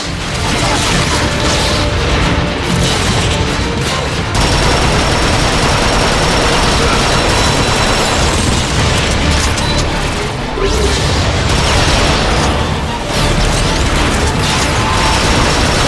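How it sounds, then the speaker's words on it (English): An engine deck breaking apart in the Transformers Prime video game: constant, loud crashing, rumbling and mechanical grinding with bursts of gunfire-like pops, dense and unbroken throughout. "The whole engine deck is coming apart!"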